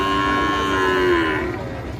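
At the Kalitala cattle market in Nilphamari, a bull or cow lets out a single long, low moo close by. It swells, then fades over a background of market noise.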